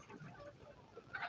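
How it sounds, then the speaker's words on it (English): Local chickens cluck softly and intermittently in a hen yard, a few faint calls close by with low background noise. "These are local chickens."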